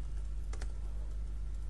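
Keys on a computer keyboard are typed, making a few soft clicks close by over a steady low background hum.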